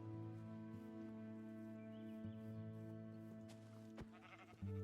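Sheep in the Minecraft video game bleat a few times over a steady, tonal game music background, the calls fairly faint and spaced out, with no talk.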